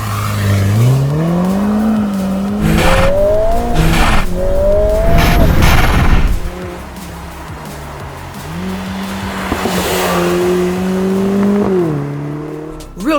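A 2025 Lotus Emira with an AMG-derived 400 horsepower 2.0-litre turbocharged four-cylinder engine accelerates hard through the gears, its pitch rising and falling with each shift. Tires squeal briefly, then the engine settles into a steadier, quieter drone.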